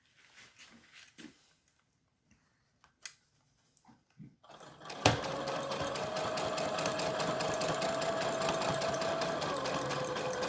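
After a few soft handling taps and rustles, a sewing machine starts and runs continuously, stitching a seam on a patio cushion with a steady, close mechanical whir.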